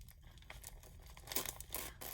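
A package torn open by hand without scissors, quiet crinkling and rasping paper-plastic tearing in short uneven bursts, close and faint.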